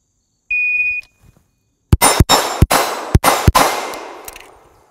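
A Steel Challenge competitive shooting stage begins with a timer beep, then five rapid loud gunshots ring out, each followed by a metallic clang from steel targets, with long ringing decay at the end.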